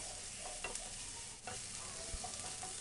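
Onions sautéing in a pan, a steady low sizzle with soft stirring scrapes and light clinks of a utensil, close and even throughout, no voices.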